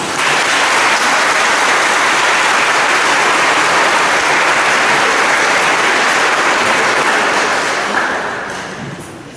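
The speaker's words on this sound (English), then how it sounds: "let's give all of our seniors a round of applause" Applause for seniors at a school senior awards ceremony pours out as a dense, loud, continuous wash of clapping from a large audience, fading toward the end.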